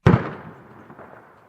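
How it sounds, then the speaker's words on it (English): A single sharp gunshot-like bang, loud and sudden, followed by a fading echo rolling away. "I heard a gunshot"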